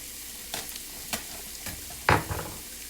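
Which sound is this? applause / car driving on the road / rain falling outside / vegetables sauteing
vegetables sauteing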